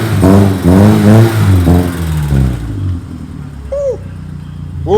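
A car with a freshly fitted custom exhaust revs hard and close, deep throaty bursts rising and falling for a few seconds, then the engine drops back to a lower idle rumble with a brief high whine near the end.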